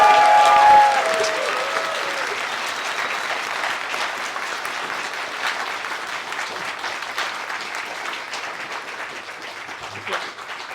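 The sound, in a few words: audience applause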